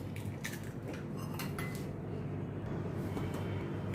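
Three eggs beaten briskly in a bowl for an omelette, a quiet, steady run of metallic clinks and taps against the dish with no talking.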